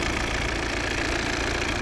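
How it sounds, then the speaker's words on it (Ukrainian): A 2016 Volvo V60 with a 2.0 diesel engine and automatic gearbox idles up close, a steady even rumble with no change in pace throughout. "у нас робота двигуна"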